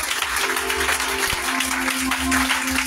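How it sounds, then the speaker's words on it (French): A congregation claps during an evening church service. Continuous, fairly loud applause from many hands fills the room for the whole moment, with a low steady hum underneath. "Applaudissez un peu pour ça."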